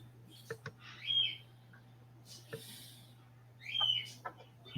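A hungry pet bird gives several short, high chirps and squawks indoors, spaced out over a steady low electrical hum, with sharp clicks between the calls.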